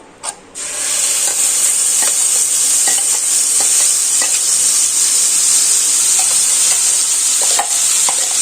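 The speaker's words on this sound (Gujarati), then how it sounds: "અને હવે આપણે જે તૈયાર પેસ્ટ કરી હતી તે એડ કરી દેશું" A ready-made spice paste hits a hot pan already seasoned with turmeric while cooking bhungla batata, giving a loud, steady sizzle with intermittent scraping stir strokes throughout.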